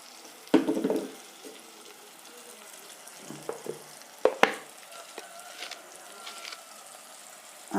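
Chili and coriander powder fry in oil as a spoon stirs, producing a faint background sizzle with occasional louder scrapes and clatters, sparse and uneven.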